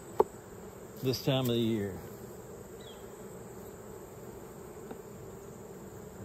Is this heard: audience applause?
no